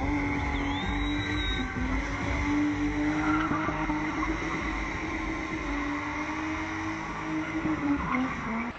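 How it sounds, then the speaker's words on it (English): Cars spin and skid at Borrowdale Racecourse during Spin City, an off-road motoring show where local and South African drivers perform spinning tricks. A loud, steady roar of engines and tyre noise runs through the whole stretch without pause, with no talk. "local and South African drivers showcased their car spinning tricks at Borrowdale Racecourse"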